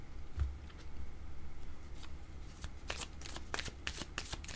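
Oracle cards being shuffled by hand, a soft close papery riffling and flapping that repeats steadily over a quiet room, with no speech.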